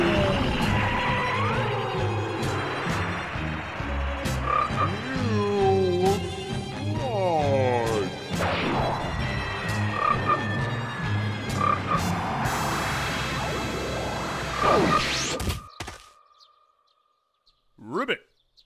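Frog croaks ring out amid a busy cartoon scene, layered with chirps, whooshes and other effects, then cut off abruptly by a short burst at the end; a voice also mimics croaking.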